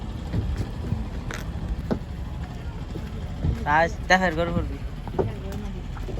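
A boat ride on a lake at Rangamati, with a steady low motor and water rumble under wind buffeting, and people talking and calling out close by.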